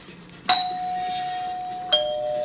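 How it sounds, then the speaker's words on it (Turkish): A smart home system's doorbell sounds a two-tone chime, a bright ding followed by a lower dong with a ringing decay, fairly close in a quiet room. "Bir kere on off çalıştı ve kapı zili çaldı."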